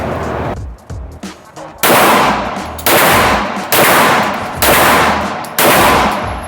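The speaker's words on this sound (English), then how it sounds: "Okay, so I just shot my gun" Handgun shots ring out at an indoor shooting range: five loud, sharp reports spaced about a second apart, each trailing into a short echo, with no talking between them.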